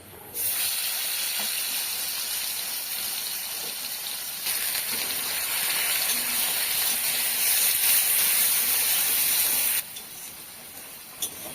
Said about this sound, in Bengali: জিরেটা একটু ভেজে নিয়ে তেলের ওপরে পেঁয়াজ বাটাটা দিয়ে দিতে হবে